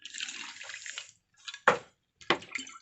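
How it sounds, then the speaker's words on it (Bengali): Small splashes of water poured into kachuri dough in a bowl: a short trickling pour, a pause, then two quick close splashy bursts. "আমি অল্প জল দিচ্ছি"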